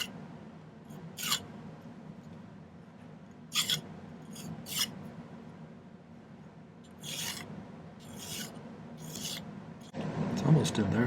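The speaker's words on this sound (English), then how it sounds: "So what I'm going to do is gradually file this down." A metal file rasps against a small silver pendant part in short bursts of several strokes, with pauses between them, close and fairly quiet over a low steady hum, ending in a louder rubbing burst.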